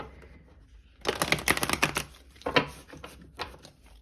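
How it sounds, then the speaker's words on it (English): Cards riffle and snap together in a burst of rapid crisp clicks, followed by a few softer taps, close and clear with no talking. "Okay, we'll do one last shuffle."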